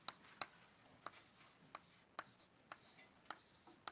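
Hand-writing of an equation on a board during a mechanics lecture, heard as faint, scattered taps and short scratchy strokes at an irregular pace in a quiet room.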